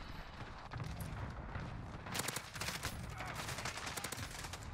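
Gunfire from an assault rifle in a first-person shooter video game, a dense, steady stream of rapid shots holding at a loud level through the whole stretch, with no voices over it.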